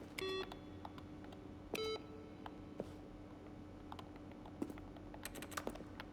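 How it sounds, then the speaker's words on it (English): Button clicks in The Stanley Parable: Ultra Deluxe, a quick run of clicky, keyboard-like taps with short electronic beeps mixed in, close and clear, with no talking. "And so clickety clack. Whoa, button sounds."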